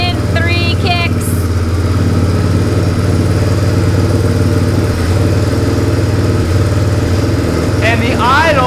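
A kick-started motorcycle engine runs loud and close at a steady, slightly uneven idle throughout, with brief voices heard at the start and end.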